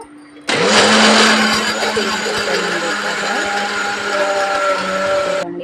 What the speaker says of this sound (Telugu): ఈ కొబ్బరి అంతా కట్ చేసి మిక్సీ జార్లో వేసి తురుము పడదామని